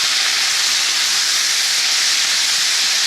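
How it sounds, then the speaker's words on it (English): A splash of water steams in a hot pan of asparagus, rapini and collard greens, a loud steady hiss that holds evenly throughout, close by and without speech. "it helps create a little bit of steam, which helps soften everything up pretty fast"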